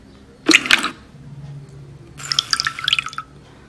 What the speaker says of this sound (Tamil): இதில் கொஞ்சம் தண்ணி ஆட் பண்ணுறேன்,